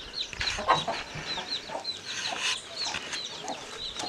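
Hens cluck among a flock of peeping chicks on a small farm, with repeated high chick chirps and low hen clucks close by, steady and overlapping throughout.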